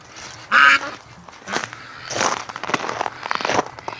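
Pekin ducks quack inside a barn in cold weather, one loud close quack followed by a busier stretch of overlapping calls and rustling.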